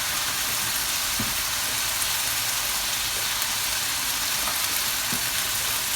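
Chopped onions sizzle steadily in a hot pan for a lasagne sauce, a constant crackling hiss with a few soft scraping knocks as they are stirred, close and even throughout.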